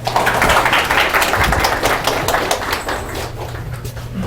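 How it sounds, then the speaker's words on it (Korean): Seminar audience clapping to welcome a lecturer at an exam preparation session, a loud burst of many hands close by that gradually thins and fades, with a low hum underneath. "박수 한번 쳐주세요."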